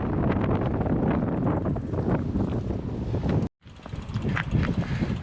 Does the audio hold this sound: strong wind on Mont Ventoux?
yes